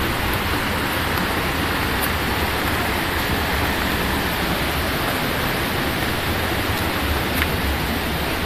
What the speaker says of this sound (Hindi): इट्स दूध सागर वाटरफॉल, देखो दूध कितना लग रहा